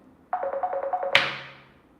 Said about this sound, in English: That's my computer ringing and my phone ringing.